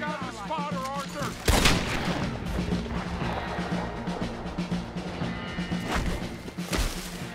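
Cannon fire booms from a hillside in Red Dead Redemption 2 amid a frontier fort battle. One heavy blast stands out early, then more booms follow among crackling rifle fire and shouting voices.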